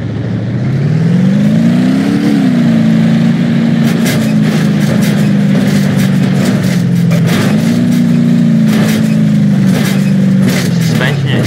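Tow truck engine in BeamNG.drive revving steadily, with the pitch rising and dipping through shifts, loud and continuous, with scattered clunks and impacts in the later half and talk over it.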